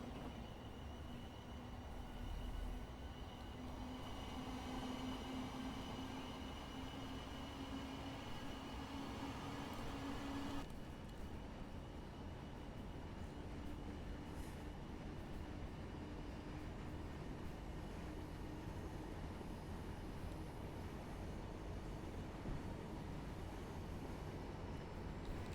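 Class 700 Thameslink electric train running between Brighton and Bedford in Train Simulator Classic, a faint steady rumble with a low electric hum that shifts pitch partway through, no talking.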